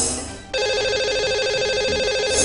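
A telephone rings loud and steady in a TV studio as a live phone-in call is placed, the electronic ring tone running continuously and alone.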